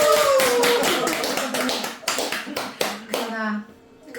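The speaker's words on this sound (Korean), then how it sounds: "나 자신에게 박수를" An audience at a Buddhist dharma talk claps for themselves: a burst of quick, uneven hand claps up close, some run together and some single, that thins out and stops, with a voice heard faintly under them.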